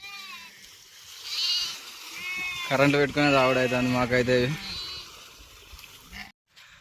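Sheep bleat repeatedly from close by, a loud wavering chorus in the middle, while someone talks over them and the animals drink water on a farm.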